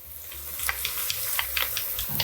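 Garlic sizzling in a pot over medium heat, a soft continuous frying hiss with light crackles and occasional stirring clicks, fairly close and quiet.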